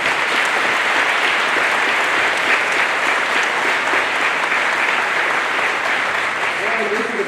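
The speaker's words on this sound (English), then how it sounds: "so we give a big round of applause for them" Dense, steady applause from a large crowd at a Nuclear Power School graduation ceremony, loud and continuous throughout with no clear break.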